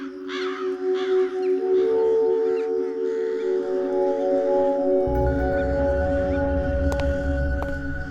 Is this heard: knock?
no